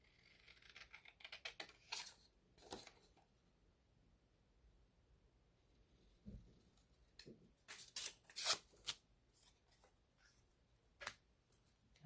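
Scissors cutting paper for a DIY hinged envelope, a scattered series of faint, crisp snips and rustles with quiet pauses between them, close by.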